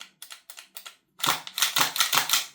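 Clicking mechanical clacks from an Archwick APC9K gas blowback airsoft gun as its right-hand bolt release is worked, first four separate sharp clicks, then a denser run of loud rattling clacks, close up with no talking.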